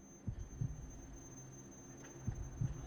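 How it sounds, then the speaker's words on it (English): A video game heartbeat effect plays two faint paired thumps, a lub-dub about every two seconds, low and muffled over a quiet hum with a thin high whine. "Staccato heartbeats thump in a rising crescendo to meet the distant booming."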